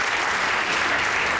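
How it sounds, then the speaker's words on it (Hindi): Studio audience applause on a Pakistani comedy talk show, a dense, steady wash of many hands clapping at once, loud and continuous with no voices over it. "ताली बजा रहे थे।"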